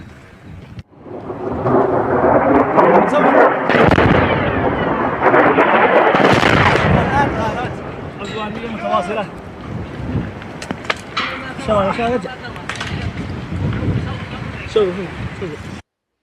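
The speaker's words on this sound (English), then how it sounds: "You're going to hear explosions in this next round." Heavy booming blasts and rumbling roar, followed by scattered crackling and clattering of debris raining down, continuous and loud throughout.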